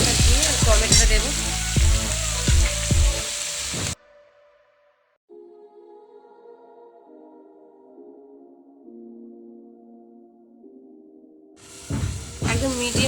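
Prawns and tomato fry in a pan for Bengali aloo ghonto, sizzling loudly and up close for a few seconds. A quiet stretch with faint tones follows before the sizzle bursts back in.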